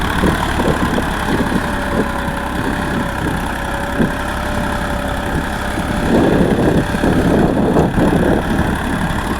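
A Massey Ferguson 241 tractor engine rumbles steadily pulling a three-bottom hydraulic reversible plough, a low continuous drone that grows louder and rougher toward the end.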